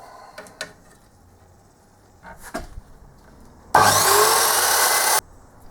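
A few wooden knocks and scrapes, then a loud burst of power-saw cutting through a wooden casting pattern for about one and a half seconds before stopping abruptly.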